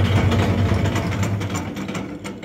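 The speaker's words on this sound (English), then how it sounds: "with the press of the foot switch, you'll go ahead and kick on the machine into mix grind mode" A refurbished Hobart MG2032 mixer grinder, a 32-head commercial machine with 200 pound capacity, runs in mix grind mode with a loud, close, steady mechanical churning and rhythmic gear clatter, with no talking.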